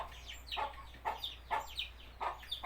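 Pet chickens fed corn grits mixed with feed give a series of soft clucks, about five short calls spaced roughly half a second apart, close by and moderately loud over a low steady hum.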